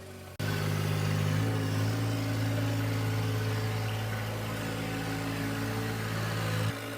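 A John Deere 1025R subcompact tractor engine starts up and runs steadily at half throttle, a close, even droning hum that holds for several seconds before cutting back abruptly.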